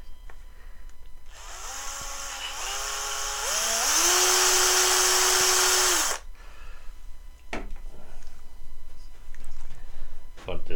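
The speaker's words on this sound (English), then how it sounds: "Maybe we need to drill that up a little." A power drill bores out a small hole in a wooden trebuchet part, whining up in pitch as it spins up and bites, running for about five seconds, then stopping, followed by handling knocks and quiet background sounds.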